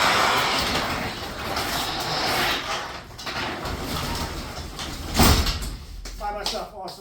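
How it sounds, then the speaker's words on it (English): Residential garage door with newly adjusted torsion springs rolling along its track for several seconds, ending in a firm thud as it closes, with someone talking over the sound. "I'm able to lift the door up by myself"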